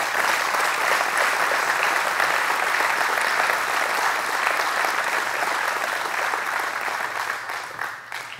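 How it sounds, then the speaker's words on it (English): Steady, dense applause from a large audience at a glass plant ribbon cutting ceremony, sustained and loud throughout before tapering slightly at the end. "let's give him a warm round of applause."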